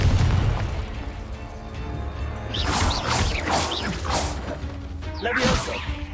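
A Confringo fire spell in the game Hogwarts Legacy, a booming blast with crackling bursts and whooshing effects over a constant low rumble, loud and close.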